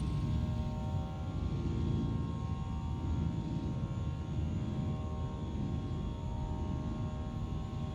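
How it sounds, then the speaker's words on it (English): Steady engine roar of a Fenix A320 airliner climbing after takeoff in Microsoft Flight Simulator 2020, a constant loud rumbling drone with a faint whine on top, unbroken and without speech. "And up we go. That wasn't a bad takeoff for me"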